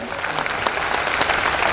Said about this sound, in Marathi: असा अनुभव देणाऱ्या या मुलांसाठी मनापासून टाळ्या होऊन जाऊ दे.